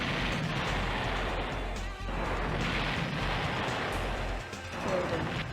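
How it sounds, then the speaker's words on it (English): A stealth tank blows up with a loud, sustained crashing blast in the Red Alert Alternative mod of Command & Conquer Red Alert, the roar filling the whole moment with a brief dip midway. "I do love the excessively loud explosion on the stealth tank"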